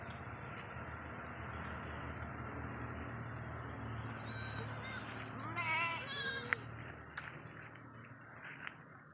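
Goats at a livestock sale bleat faintly from a distance over a steady low background hum, with a brief cluster of calls about midway through.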